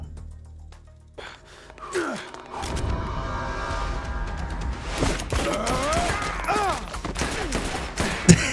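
Rapid bursts of gunfire in the video game Dead Rising Deluxe Remaster, a dense crackling fusillade of shots that runs steadily for several seconds mixed with other game noise.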